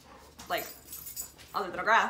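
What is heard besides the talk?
dog barking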